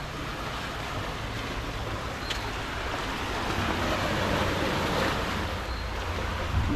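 Ocean waves wash steadily against the shore of a protected seascape, a continuous broad roar that swells slightly midway, with wind buffeting the microphone and no voices.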